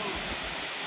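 A waterfall gives a steady rushing hiss of water with a soft low rumble, even and continuous for a brief moment.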